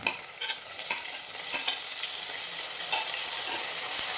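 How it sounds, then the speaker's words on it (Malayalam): Tomato and green chillies sauté with shallots in a pan for a shark fish curry, producing a close, continuous hissing sizzle with scraping stirs of a spoon throughout. "ഈ തക്കാളിയും പച്ചമുളകും കൂടെ ഒന്ന് വഴന്നിടണം"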